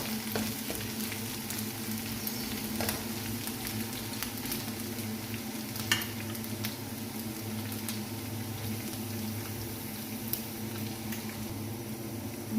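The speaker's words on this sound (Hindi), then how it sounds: "बस प्याजों के साथ 1 मिनट इसे पकाएंगे।" Chana biryani masala cooking with onions in a pan gives a quiet, steady sizzle with faint crackles and an occasional light tap, without voices.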